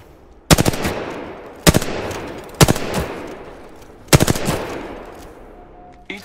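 Loud gunfire from a first-person shooter video game comes in four sharp bursts of rapid shots, each burst separated by a brief pause with a short decaying tail.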